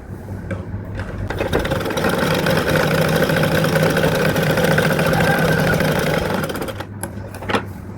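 A household sewing machine stitches a folded hem on fabric for a chudithar pant, a steady close mechanical whirr running for about six seconds between brief quiet pauses.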